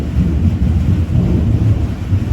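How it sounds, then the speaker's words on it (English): Thunder rumbles through a thunderstorm as a continuous deep, loud roar of low-pitched noise, steady with slight swells, with some wind buffeting and no voices. "thunderstorms are rolling in."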